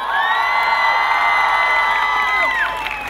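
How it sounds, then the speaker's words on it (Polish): Crowd at a PGE Skra Bełchatów volleyball team presentation cheering and whooping loudly for sponsor PGE, with sustained high-pitched shouts and whistles over broad applause, fading slightly near the end. "Brawa dla PGE!"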